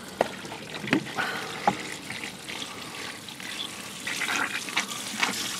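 Mains water surges under pressure into the pipes of a sand-and-oil solar water heater, a gurgling, hissing flow with a few sharp knocks and splashes, fairly close and moderately loud, no speech.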